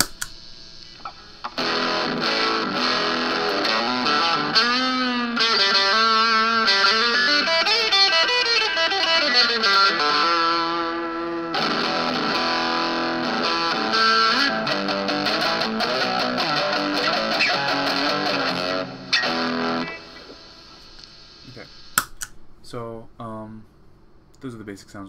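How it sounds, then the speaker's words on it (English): An electric guitar runs through a Big Muff fuzz pedal into an amp with a little reverb, playing sustained distorted chords and riffs that ring loud and thick for about twenty seconds before cutting off into a few scattered noises. "here's the muff."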